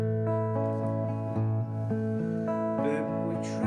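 Strummed guitar chords playing the chorus of a song, ringing steadily and close with regular rhythmic strokes and sustained harmonic tones throughout.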